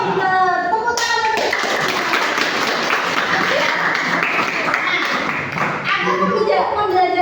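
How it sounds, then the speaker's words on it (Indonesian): A classroom of children clapping their hands in a dense burst of applause lasting several seconds, with a teacher's voice before and after. "Tepuk tangan."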